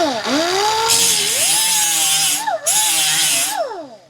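A power sander runs against aluminum with a soaped sanding disc, giving a loud, close whine whose pitch dips and rises as the load changes, with two bursts of harsh grinding hiss where the disc bites.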